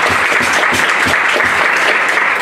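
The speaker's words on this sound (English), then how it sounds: "Stand up, so I'll give you a big round of applause." A room of Rotary club members applauds an outbound exchange student, a loud, dense, sustained wash of clapping close by with no talking over it.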